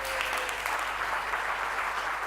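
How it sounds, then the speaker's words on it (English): Conference audience at a corporate innovation summit applauds panel entrepreneurs, a steady wash of clapping from a sizable crowd, moderately loud and continuous throughout. "I want you to stand up and give the warmest rockstar applause for all these people"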